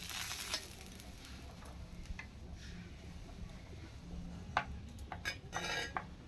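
Oil brushed onto a hot tawa griddle gives a steady low sizzle under scattered metallic clinks and scrapes of utensils, close by, with a few louder taps near the end and no talking.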